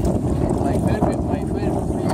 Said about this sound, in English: Here we are in the windy, cloudy, cold day.